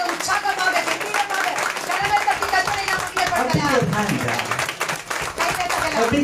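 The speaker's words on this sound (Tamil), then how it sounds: "let's join our hands and put our hands together and give a mighty hand of praise towards our Lord and God" A church congregation claps hands in praise with dense, ongoing applause, while a voice speaks over the clapping throughout.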